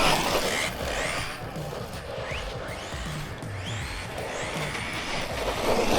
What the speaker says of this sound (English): Like the way it skids on the tarmac